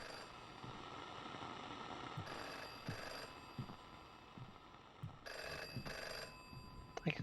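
Telephone ringing in a P.T.-style horror video game, repeated old-fashioned bell rings in short bursts over a faint low drone, with no talking.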